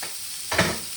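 Onions and mushrooms frying in a pan on a breakfast cooking show, a steady close sizzle that swells briefly as food is stirred or moved, with no talking.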